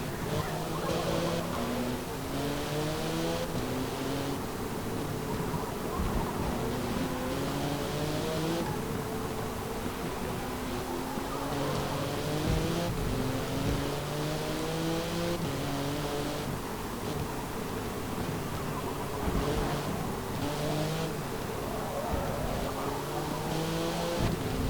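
A race car in Forza Motorsport 7 holds a loud, continuous engine roar at top speed, about 207 mph while drafting behind a Mercedes, with the pitch rising and falling through repeated gear shifts.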